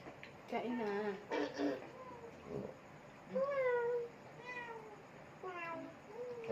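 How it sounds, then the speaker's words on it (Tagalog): A domestic cat meows repeatedly at a family meal, several clear, close meows rising and falling in pitch, with people talking around and between them. "Meow. Meow. Sabi ng pusa namin, isali po kami."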